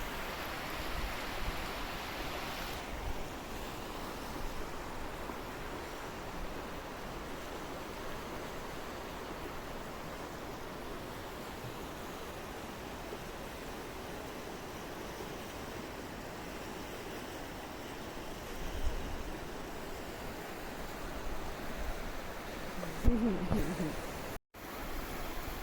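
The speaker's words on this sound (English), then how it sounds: "I found another beautiful spot by the river." A river in Kings Canyon flowing steadily, a broad continuous wash of water heard from nearby, faint and even, with a few brief louder bumps toward the end.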